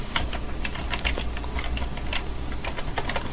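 Rapid typing on a computer keyboard while editing a configuration file on Red Hat Enterprise Linux 5, a steady stream of close, crisp key clicks with no voices.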